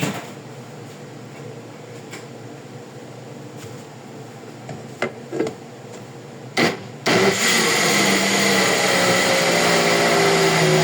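A kitchen blender kicks on loud and steady near the end, pureeing baked eggplant and potato, after several quiet thumps and clicks of setting up.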